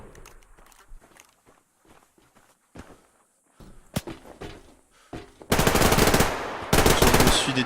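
Gunfire from the online shooter Survarium: scattered single shots and footsteps give way to sustained loud automatic bursts of machine-gun fire in the final seconds, with no talk.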